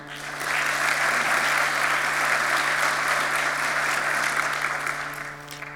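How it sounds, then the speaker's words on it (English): Audience applause for a speaker at a debate on Israel and Palestine, loud sustained clapping from a large crowd that swells quickly, holds steady, then tapers near the end. "Round of applause for Moshe."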